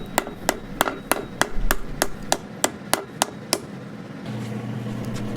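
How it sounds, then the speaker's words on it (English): A ball peen hammer shapes a forged steel leaf on a wood block, striking about a dozen sharp, ringing metallic blows in a steady rhythm. The strikes are close and loud and stop after about four seconds, leaving quiet shop noise. "I'm using a ball peen hammer, and it makes the leaf get a hollow in the center"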